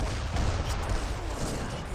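Massed artillery fire in an Age of Empires match, a dense, continuous barrage of overlapping booms and crackles filling the whole stretch at steady loudness, with no speech over it.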